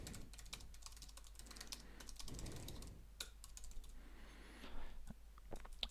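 Steady, close-up clatter of keys on a computer keyboard while someone writes program code, quick irregular taps running throughout with no voices.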